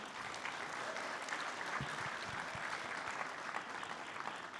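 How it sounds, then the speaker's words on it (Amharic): Audience at an award dinner clapping, a dense sustained round of applause from many hands, steady and moderately distant throughout with no voices rising above it. "ለአርቲስቶቻችን ከፍ ያለ ጭብጨባ እንድታደርጉልኝ እወዳለሁ።"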